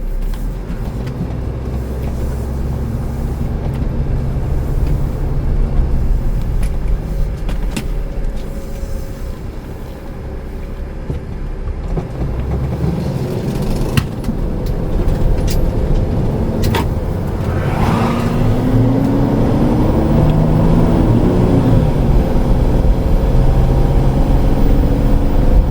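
Car climbing and winding over Gates Pass near Tucson, Arizona: a steady engine drone and road rumble heard from inside, with shifting engine pitch as the car accelerates along the curves and no talking.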